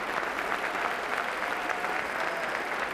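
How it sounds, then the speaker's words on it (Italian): A crowd applauds a performer at a live internet evangelizing show in Italy, a steady, even wash of clapping at moderate level for a few seconds with no voices. "Grazie, un applauso."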